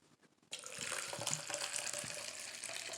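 Crane Lake wine poured into a McDonald's cup, a steady liquid splash and trickle starting abruptly after a brief quiet moment, close and moderately loud.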